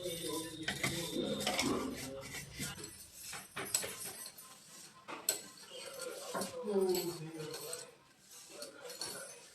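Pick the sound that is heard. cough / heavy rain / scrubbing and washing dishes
scrubbing and washing dishes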